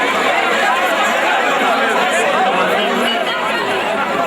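A large crowd of youths, mostly APC party supporters, greets an arriving politician in Bida with dense, continuous chatter and overlapping voices, loud and close throughout.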